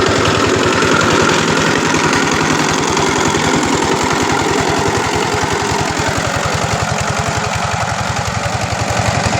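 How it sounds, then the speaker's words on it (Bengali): A machine ploughs a small plot of farmland, its engine loud, close and steady with a fast, throbbing rhythm that continues unbroken throughout. "এই যে আমাদের জমিতে কিন্তু মেশিন দিয়ে হাল চাষ করতেছে"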